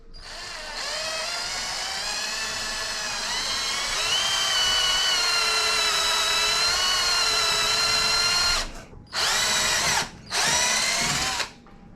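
A cordless drill whines loudly and steadily for several seconds, then stops and restarts in two short bursts.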